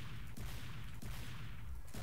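Rapid, dense gunfire from the video game Team Fortress 2 while shooting at a medic: a continuous, loud volley with repeated sharp shots over a rumbling low end, steady throughout.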